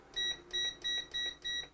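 Five evenly spaced electronic beeps from an induction cooktop being switched on and raised to its highest power level, each tone short, bright and close, alone in a quiet room.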